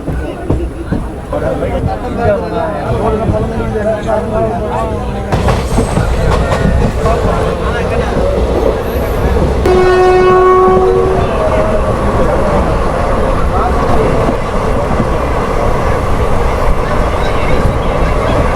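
Puducherry Express passenger train running on the line between Pondicherry and Chennai Egmore, a steady rolling rumble with rail clatter, loud and close, heard from inside a packed carriage with crowd chatter throughout.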